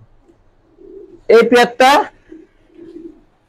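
Domestic pigeons, giribaz and raj gola types at a pigeon farm loft, coo softly and low before and after a short burst of loud nearby talk.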